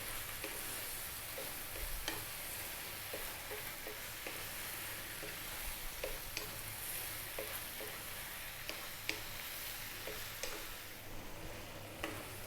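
Mushrooms cook in a curry pan over medium heat with a steady, fairly quiet sizzle, broken by occasional light ticks and stirring taps, no voices.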